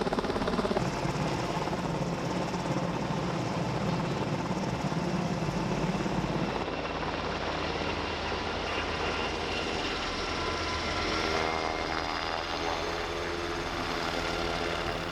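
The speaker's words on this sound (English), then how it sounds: "We're talking big helicopter with a lot of downdraft" A Black Hawk helicopter hovers loudly overhead during tree removal, its rotors and engine making a continuous throbbing roar with strong downdraft rumble, and the tone shifts partway through as the machine changes position.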